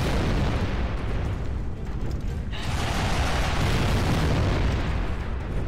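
Dense, continuous booming blasts from missiles in Gears of War 2 on Insane difficulty, loud and rumbling with a brief dip midway before the roar of explosions resumes.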